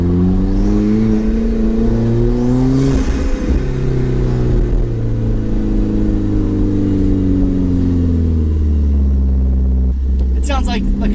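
A deep, throaty Alfa Romeo 4C engine with a cold air intake and centerline exhaust revs and holds steady around 3,000 RPM, rising and falling in pitch, loud and close, with a few clicks near the end.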